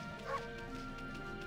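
A short, high yelp or bark from a cartoonish dog in the video game Okami sounds once against a soft tonal music bed, fairly quiet and brief.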